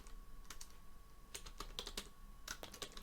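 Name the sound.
typing on a computer keyboard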